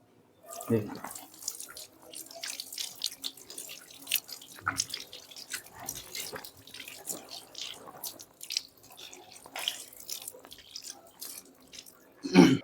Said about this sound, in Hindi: फिर मैं 3 मरतबा और पानी ऊपर से नीचे तक डालता हूँ।